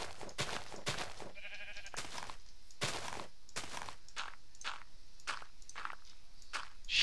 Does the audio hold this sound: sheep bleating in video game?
yes